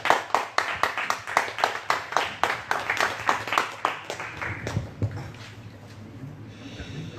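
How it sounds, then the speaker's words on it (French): A steady round of applause at a wine-and-writing competition award ceremony, many hands clapping in an even, quick rhythm that gradually thins out and fades into a quieter room murmur. "on peut également l'applaudir"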